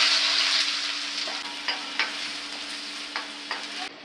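Chopped onions fry in mustard oil in a wok, a steady bright sizzle that fades slightly as the spoon scrapes and knocks against the pan a few times.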